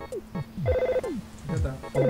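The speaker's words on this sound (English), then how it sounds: "Look at that phone ringing." A chiptune telephone ringtone from the video game EarthBound chirps in repeated quick beeps with falling sweeps, looping several times at a steady, bright pace with no talking.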